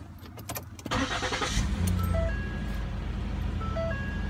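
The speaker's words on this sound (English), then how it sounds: "let's turn the car on, see what that does." A Ford Explorer from the 2011–2018 generation cranks and its engine catches about a second in, then settles into a steady, close idle with a broadband rumble that holds to the end.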